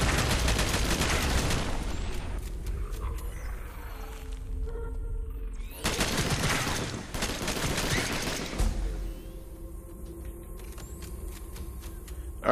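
Bursts of rapid gunfire during an attack in the video game Earth Defender, loud and close, in dense volleys that break off into quieter gaps with faint game sounds before the shooting resumes.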